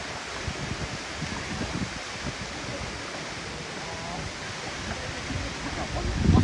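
Phephe waterfall in Meghalaya pours in a steady, dense rush of clean water, a constant broadband roar close by, with faint voices underneath and a louder rumble of movement at the end.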